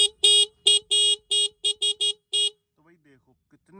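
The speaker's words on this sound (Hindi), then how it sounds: "जब हॉर्न बजाता हूँ तो कोई हटता ही नहीं है सामने से" The single horn of a TVS Raider 125 motorcycle beeps in a quick series of short, thin, high toots, about nine in a row, followed by quiet background noise.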